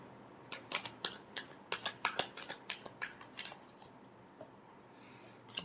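Tarot cards shuffled by hand give a string of sharp, crisp snaps and flicks, about a dozen quick close clicks in an uneven rhythm, then a quieter pause with faint rustling, no talking.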